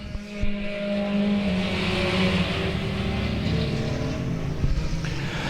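Race cars at South Texas Speedway accelerate as the field gets away, a loud, steady roar of engines with rising and falling harmonic whine, close and continuous with a few sharper bursts near the end.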